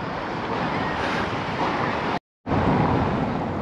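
Sea waves wash against the shore at Sinop, a broad surging rush of surf with wind buffeting the microphone, broken by a brief silent gap before resuming.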